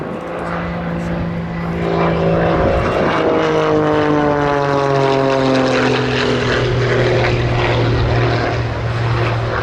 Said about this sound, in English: It's just so incongruous to have a biplane with some jet noise associated with it.